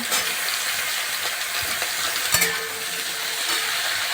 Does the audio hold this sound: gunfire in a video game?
no